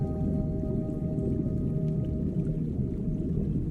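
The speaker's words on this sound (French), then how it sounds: "Un son grave résonne dans l'eau au loin, le bruit des moteurs de navires" Distant ship engines rumble underwater off a remote Brazilian archipelago, a steady low drone with faint tonal hums filling the sea continuously, with no voices.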